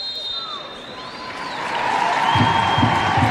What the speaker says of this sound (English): And a big applause goes around the stadium here in Leuven as Nikita Paris gets us underway.